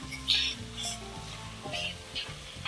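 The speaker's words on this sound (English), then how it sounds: "Now I'll continue sauteing this until the onions turn slight golden brown" Onions sauté in a pan with a continuous soft sizzle under a faint tonal musical background, with a few small stirring bumps along the way.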